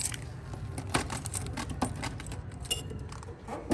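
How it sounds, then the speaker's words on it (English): Car keys for a 1968 Chevrolet Camaro jangle and clink close to the microphone, a continuous run of small metallic rattles and chimes with a few sharper clacks, heard alone. "If I can find the right keys, you'll be able to pop the trunk."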